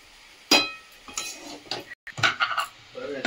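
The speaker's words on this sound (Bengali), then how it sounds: "দিয়ে যে মিশিয়ে নিচ্ছি এর সাথে, সবজির সাথে" A spoon scrapes and clinks against a pot while rice is stirred together with vegetables, salt and sugar, giving a few sharp metallic knocks followed by softer scraping and shuffling, close up and without talk.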